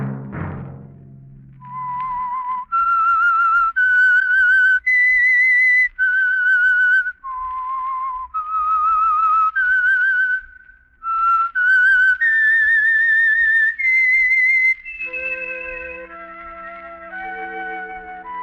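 A lone whistler carries the eerie theme of The Whistler radio mystery program, clear and close, each sustained note sliding between pitches in a slow melodic phrase before orchestral tones enter at the close.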